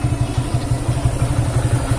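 Small motorboat engine crossing the water in a Chinese village in Riau, a close, steady, rapid low chugging with clattering pulses and no voices.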